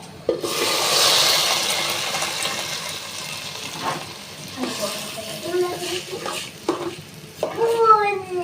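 Polao rice being stirred and fried in a pan, a hissing sizzle with scraping stirs and occasional clinks, broken by a few faint voice fragments near the end.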